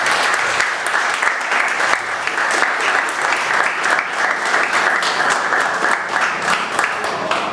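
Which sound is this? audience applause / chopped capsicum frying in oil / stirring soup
audience applause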